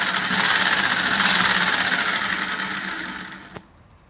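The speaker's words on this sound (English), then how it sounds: "I'm going to cut it out with the jigsaw." A jigsaw cuts through MDF board in a fast, buzzing rattle close by that fades out over about three seconds and ends with a small knock.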